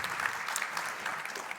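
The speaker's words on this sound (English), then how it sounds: "Can we have a little bit of applause for Nils from the very back row if you can hear us?" An audience at a panel discussion on driverless vehicles claps in a brief, dense burst of applause, close and even, with no voices over it.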